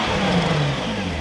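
A Nissan GTR fitted with an AAM active exhaust gives one brief, loud, close rev.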